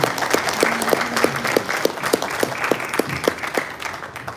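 Audience applause at a university event fills the hall, a steady wash of many hands clapping with scattered louder individual claps throughout, moderately near and continuous.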